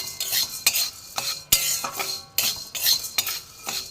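About 100 grams of urad dal dry-roasts in a pan while a spoon stirs it steadily. The spoon gives sharp, repeated scraping strokes roughly every half second, with a rattle of dry lentils and no voices.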